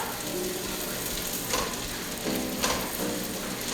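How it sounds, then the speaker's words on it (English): Onions frying in bacon fat sizzle with a steady, even hiss, while a spoon stirs them with soft scraping swells that come and go in the pan. "So we are going to be adding our onions to this, which is a half a cup of onions. I'm gonna stir this up."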